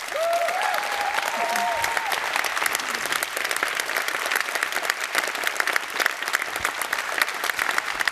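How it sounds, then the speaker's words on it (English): Conference audience at PyCon AU 2023 applauding during the closing address, sustained dense clapping throughout, with brief voices and a whoop audible early on. "We're still applauding you."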